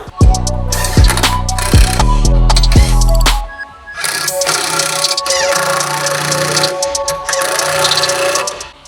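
Ratchet tightening the bolts of a tyre carrier on a GWM Cannon Alpha PHEV ute: a loud, close run of rapid mechanical clicking that stops after about three seconds, followed by quieter workshop noise and clatter.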